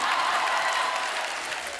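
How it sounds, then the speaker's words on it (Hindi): A crowd applauds in a dense, steady wash of clapping that holds evenly and eases off slightly at the end, moderately loud, with no talking over it. "तालियां बजाना"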